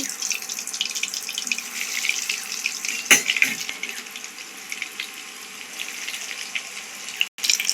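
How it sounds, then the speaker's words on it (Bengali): Fish chops frying in a pan of oil, a continuous bright hiss with crackles, close and fairly loud, with a brief clatter near the middle and a short cut near the end. "এবার এগুলোকে মা লাল লাল করে ভেজে নেবে"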